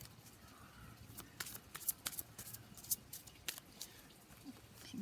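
Tarot cards being shuffled by hand during a Gemini horoscope reading, a quiet, close series of rapid papery flicks and riffles in irregular bursts, with no talking over them.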